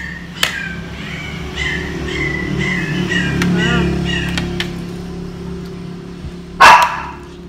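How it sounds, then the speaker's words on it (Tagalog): Bella, a dog at a home, barks repeatedly in a quick, evenly spaced series of fairly close yaps over steady background hum, followed by a single louder burst near the end. "Maingay. Tahol ng tahol."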